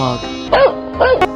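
Two quick, close dog barks from a 3D animal video game pop out over a sustained musical tone, short and evenly spaced within about a second.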